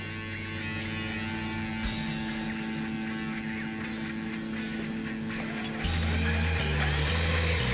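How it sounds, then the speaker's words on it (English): A power drill whirs steadily and close, boring a pilot hole through a carbon fiber rear spoiler on a 2015-2017 Mustang Fastback, its motor pitch shifting as it bites, then rising into a higher, strained whine near the end. "actually drill in from the top and get our pilot bit to come through here"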